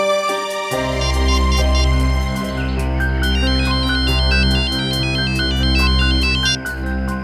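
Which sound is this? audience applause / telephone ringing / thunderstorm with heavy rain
telephone ringing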